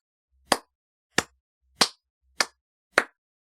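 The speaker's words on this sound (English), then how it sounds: "I'm clapping" Five sharp, separate hand claps spaced about two-thirds of a second apart, crisp and fairly close, with nothing else around them.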